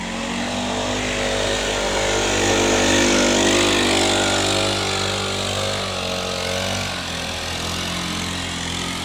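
A leaf blower runs steadily during lawn care work, a loud continuous engine whine and rushing air that holds nearly constant throughout, close by and with no talking.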